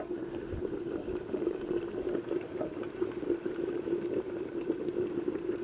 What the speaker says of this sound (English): we are now boiling